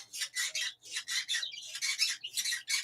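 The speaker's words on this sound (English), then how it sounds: "That bird is so funny." A pet bird kept indoors gives a rapid series of harsh, raspy squawks, about a dozen close bursts in an uneven rhythm, fairly near and clear with no talking.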